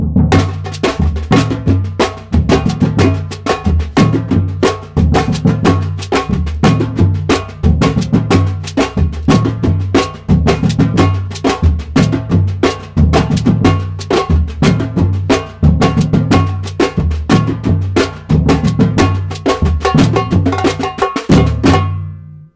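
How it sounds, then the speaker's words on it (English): A samba reggae percussion ensemble with repinique plays loud and close: deep drums pound a steady groove while bright, sharp strikes ring over it in a dense, driving rhythm. "Together with some other instruments, this samba reggae sounds like this."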